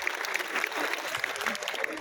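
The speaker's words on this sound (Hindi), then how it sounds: "एक बार जोरदार तालियों के साथ आदरणीय महंत नारायण गिरी जी का स्वागत और अभिनंदन" A crowd at a political gathering claps steadily to welcome a guest, a dense, moderately loud patter of hands with scattered sharper claps throughout.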